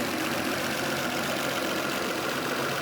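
A Nissan Skyline Kenmeri engine idles steadily after carburetor tuning, a continuous even drone with no talking over it.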